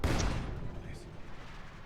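A Su-76 artillery barrage in Company of Heroes 2 lands as a heavy, rumbling boom that fades slowly into a low roar, with someone talking over it.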